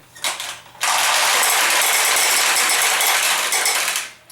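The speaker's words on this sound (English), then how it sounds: "You just push this lever over, and the balls will flow from here down to your receiving tray." Pachinko balls pouring from a Nishijin pachinko machine into its receiving tray, with a brief rattle first, then a loud, continuous metallic cascade of clattering balls that lasts several seconds before tapering off, close by.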